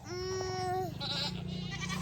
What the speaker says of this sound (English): we're just going to come hang out with the goats. You can hear them